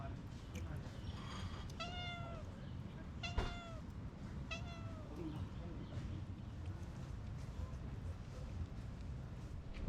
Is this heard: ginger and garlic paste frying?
no